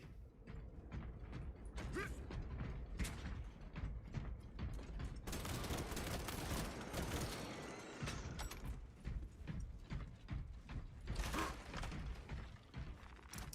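Weapon reloading in the game Space Marine 2: a busy run of metallic clicks, clacks and ratcheting mechanism sounds, with bursts of gunfire and clattering in the middle, fairly close and dense throughout.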